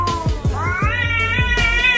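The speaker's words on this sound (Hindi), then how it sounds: "यहाँ एक बिल्ली दूसरे बिल्ली को घूर रही थी और उसके ऊपर गुस्सा कर रही थी" An angry cat yowls in drawn-out, rising wails, with rhythmic low thumps beneath, close and loud.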